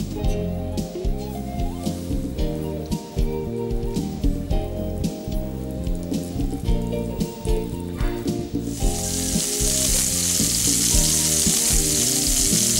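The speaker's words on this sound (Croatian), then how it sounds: "I stavljamo pržiti u tavu na vruće ulje." Salted, peppered and flour-dredged pork chops go into a pan of hot oil and burst into a loud, steady sizzle that starts partway through and keeps going, with music playing underneath beforehand.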